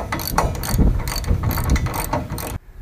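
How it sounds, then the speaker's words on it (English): A ratchet wrench tightening trailer hitch bolts on a Suzuki Equator or Nissan Frontier clicks rapidly and continuously up close, then stops abruptly near the end. "Remember, when you tighten these down, if you have a torque wrench, it's going to go to 86 foot-pounds of torque."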